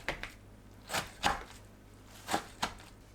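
A knife slices kimchi into strips about 1.5 to 2 cm wide for kimchi stew, giving five or six soft, separate chopping taps on a board, quiet and close, with no voices.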